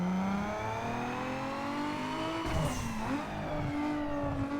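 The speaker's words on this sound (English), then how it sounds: "I'm quickly gonna do a dyno so you guys can see how much power this car has" A Nissan 350Z with a 3.5L V6, drag-tuned in Need for Speed Underground 2, revs hard on a dyno, its engine note climbing steadily in pitch, then dipping and rising again through a shift, loud and close with no talking.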